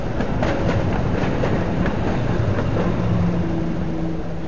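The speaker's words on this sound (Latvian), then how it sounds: "Šitādi veci apaļ tramvaji." An old rounded tram rolls past on a street in Riga, a continuous loud rumble of wheels on rails with rhythmic clicks and faint squealing tones, steady throughout and close by.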